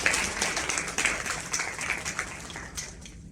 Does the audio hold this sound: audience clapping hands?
yes